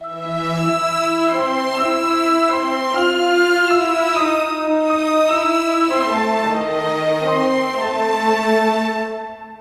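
Sustained brass chords swell and shift smoothly, warm and full, playing a slow legato passage with no voices.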